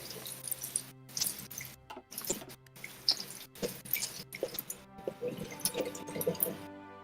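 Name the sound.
water noises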